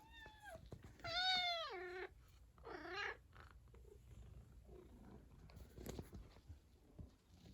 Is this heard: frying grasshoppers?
no